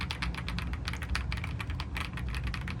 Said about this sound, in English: So let's do a quick sound test.